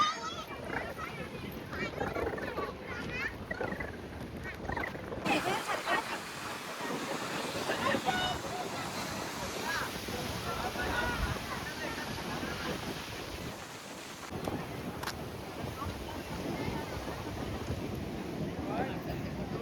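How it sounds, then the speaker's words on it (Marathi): Rough sea waves surge and wash onto Rock Garden beach at sunset, a broad roar with heavy wind buffeting the microphone and a brief lull partway through. "लाटा खवळलेत."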